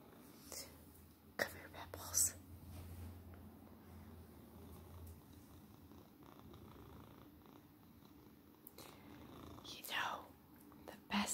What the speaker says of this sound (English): I'm sure you can hear him purr.